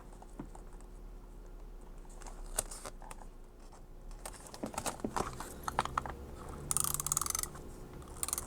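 A printable sticker sheet is trimmed by hand, giving scattered soft clicks, snips and paper rustles that stay fairly quiet, with a denser flurry of crisp cutting sounds near the end.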